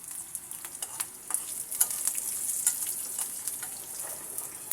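Dried red chilies sizzling in hot oil, a bright, steady frying hiss with scattered small pops and crackles, close but fairly quiet, without any talking.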